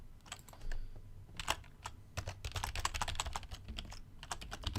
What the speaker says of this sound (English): Try not to type too loud.